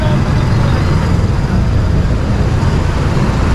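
Steady, loud road traffic near a police checkpoint, a continuous rumble of cars, buses and trucks with no breaks.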